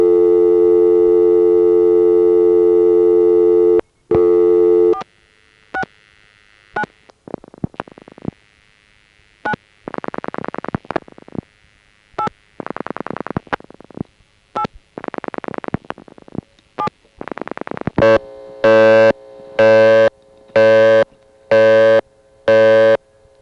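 On a step-by-step exchange of the Highland Telephone Company in the Chester 469 office, a steady dial tone gives way to bursts of rotary dial pulses as a caller dials their own number, then a loud, evenly pulsed busy signal repeats.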